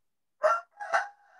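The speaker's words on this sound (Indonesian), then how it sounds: "Itu suara ayam siapa?" A chicken calls twice in the background of an online video class meeting, a short squawk followed by a longer drawn-out crow, moderately loud against otherwise quiet surroundings.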